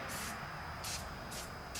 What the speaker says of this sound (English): And I usually spray a little silicone